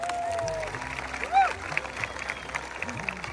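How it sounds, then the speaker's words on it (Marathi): A crowd applauds at the unveiling of a tall statue of Chhatrapati Sambhaji Maharaj in Pimpri Chinchwad, Maharashtra, with steady outdoor clapping under voices, whistles and a brief louder cheer. "सगळ्यांनी जोरदार टाळ्या वाजवायच्या."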